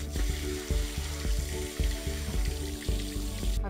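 Water from a salon tap rinsing shampoo out of a client's hair, a steady close splashing and running flow with soft rhythmic pulses, no voices.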